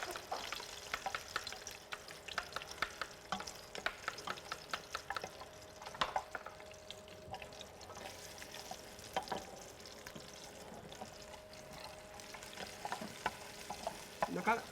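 Onions frying in a pan, a low, steady sizzle broken by frequent scraping stirs and light clinks of a spoon against the metal, fairly quiet and close.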